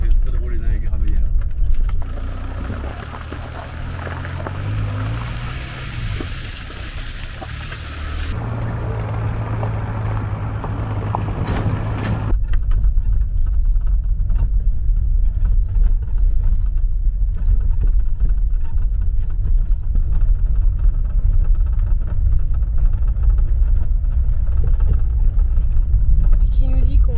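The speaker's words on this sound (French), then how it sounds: "C'est bon, je fais exprès de rouler dans les graviers là." A van drives offroad over gravel, with engine rumble and a crunchy rolling noise of tyres on small stones; the cabin sound shifts partway through and stays loud and steady.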